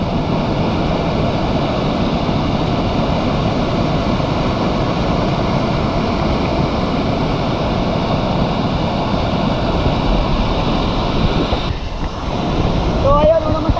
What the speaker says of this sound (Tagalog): Sobrang lakas ng tubig oh.